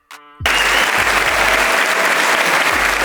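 After a brief tone and silence, loud sustained applause swells up and continues steadily, a dense wash of many clapping hands.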